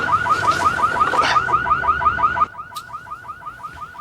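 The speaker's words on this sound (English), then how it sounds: "That sounds like my car alarm." A car alarm blares in a steady repeating warble of rising chirps, loud at first under a noisy scene, then quieter and more distant as it keeps cycling alone.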